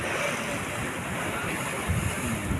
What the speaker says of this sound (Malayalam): കടലിൻ്റെ പവർ.